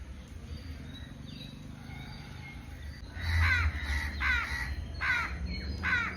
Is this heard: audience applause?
no